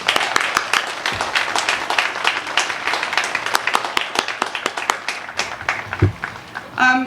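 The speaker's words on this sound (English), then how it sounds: "Can we give them a round of applause, please?" Applause for veterans at a Veterans Day ceremony: a loud, dense burst of many hands clapping in a hall, sustained for several seconds before fading.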